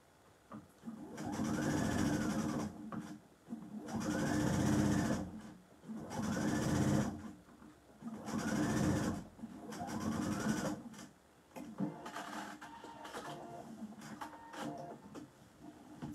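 A sewing machine set to a long stitch length runs through heavy fabric in five or six steady bursts of rapid stitching, each a couple of seconds long and separated by short pauses, close and clear with no talking.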